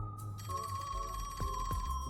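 A telephone rings in the Rain Code detective video game, a steady electronic tone with repeated trilling pulses over low background music, with no voices.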